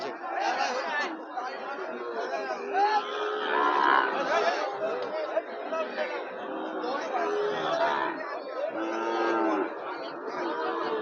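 Cattle, including young bulls, low and moo at a busy livestock market, the calls rising now and then through steady crowd chatter and close voices talking throughout.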